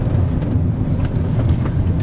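Steady low rumble of tyre noise from an old Perodua Myvi driving over a rough road surface, a continuous broadband roar heard from inside the cabin with no pauses or talk.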